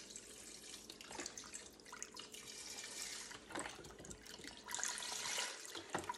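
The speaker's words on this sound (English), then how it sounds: "Instead of water, I'll be adding the beef broth right in." Unsalted beef broth pours into a pot of homemade chili on the stove, a steady faint splashing, gurgling liquid stream running for several seconds with no talking.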